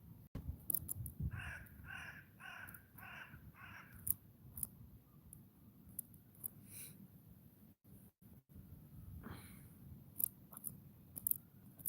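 Outdoor crows give a quick run of about five harsh caws early on, fairly faint and distant, followed by scattered sharp clicks and light rustling.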